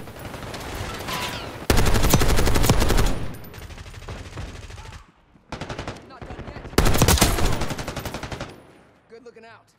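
Gunfire in Call of Duty: Black Ops 6 multiplayer: loud bursts of automatic rifle fire in several long volleys separated by short pauses, with a few scattered single shots.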